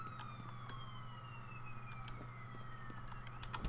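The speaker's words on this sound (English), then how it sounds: "Yeah, I put the sirens in game." Faint wailing emergency sirens sweep downward in pitch over a low steady hum, heard distantly in the video game F.E.A.R. Perseus Mandate, with scattered small clicks and thuds.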